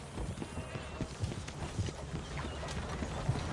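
Horse hooves in Red Dead Redemption clip-clop in a steady trotting rhythm over a dense, noisy background, fairly faint and continuous with no clear talk.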